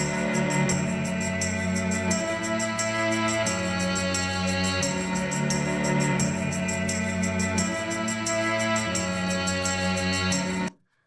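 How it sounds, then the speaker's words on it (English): Mellotron tape-loop strings sit inside the full mix of a song, sustaining steady chords beneath dense band instrumentation at a constant loud level for about eleven seconds before stopping abruptly. "That's literally the Mellotron."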